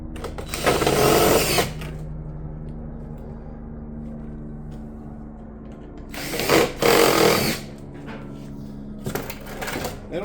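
Power tool fastening a barrel vault mission cap on a tile hip ridge with battens, two loud short bursts of a few seconds each and a brief third one near the end, with a low steady hum between them.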